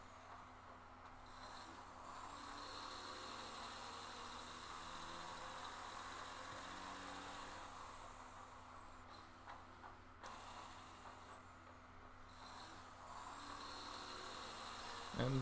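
Truck driving in the Satisfactory video game: a quiet, steady engine drone with a faint rising whine, with soft mechanical clunks and a brief thump at the end.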